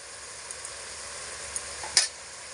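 Egg-potato curry being gently stirred in a pan, a soft continuous sizzle with faint scraping and one brief clatter near the end, quiet and without voices.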